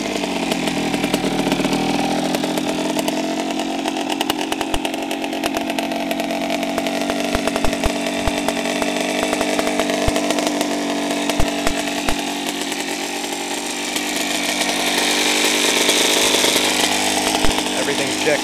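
A 2003 Kawasaki KX100 dirt bike's small engine runs at a raspy, buzzing idle, close and steady, with a few revs rising near the end; faint voices may sit beneath the engine.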